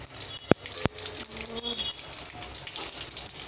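Mustard seeds and urad dal crackle and pop in hot coconut oil, with sharp scattered snaps over a steady close sizzle, no voices.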